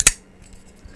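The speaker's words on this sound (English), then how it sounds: "So you get that pop from that detent, and then the blade locks open." A Sharp By Design Mini Evo folding knife snaps open with one sharp, loud detent pop as the blade locks, very close, followed by faint quiet handling.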